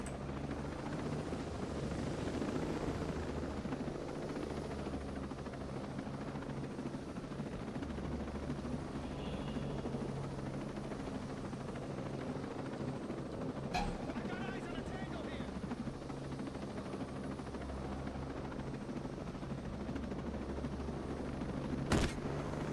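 A helicopter in the shooter game Ghost Recon Breakpoint gives a steady rotor drone for over twenty seconds. A couple of isolated sharp gunshots cut through, one midway and one near the end.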